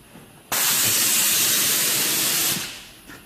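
Brake cleaner aerosol sprayed onto an Audi A8 cylinder head during a leak test: one steady, loud, close hiss lasting about two seconds, then trailing off, with no talking.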